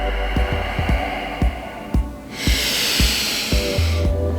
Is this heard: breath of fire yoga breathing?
yes